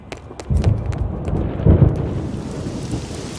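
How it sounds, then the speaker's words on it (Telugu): Deep rumbling thunder rolls in twice beneath a steady wash of rain that continues afterward, with a few sharp crackles early on and no talking. "ఫోన్ ఎట్టగానే ఉరుములు మెరుపులు వచ్చేస్తున్నాయంటే వెంటనే వర్షం వచ్చేద్దే"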